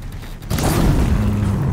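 A deep, heavy boom erupts partway through as a tank explodes in Horizon Zero Dawn, followed by a sustained low rumble that rolls on to the end.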